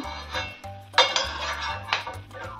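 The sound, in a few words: roasted cashews and almonds transferred into a bowl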